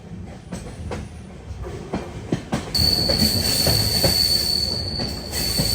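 The Secunderabad to Vasco Da Gama express train rolls near Dudhsagar, with loud, continuous rumbling, clattering wheels and a high, sustained squeal of wheels on the rails.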